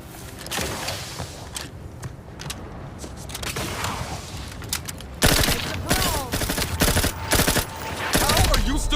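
A gun in The Outer Worlds 2 fires in rapid, rattling volleys, loud and close, the shots growing denser and punchier in the latter half over background game sounds.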